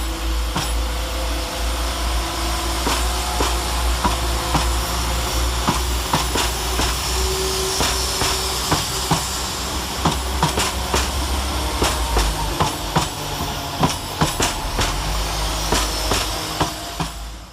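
Two coupled Class 172 diesel multiple units at Stratford-upon-Avon station, a steady loud engine rumble with repeated metallic clicks and clacks as the units move, continuous and close with no talking.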